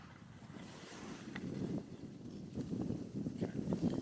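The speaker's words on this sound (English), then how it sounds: "The freaking wind, man. It's just pushing me. It is. It's very, very windy." Strong gusting wind buffets the microphone on a ski or snowboard slope, a steady broadband roar that swells and surges louder toward the end, with no voices.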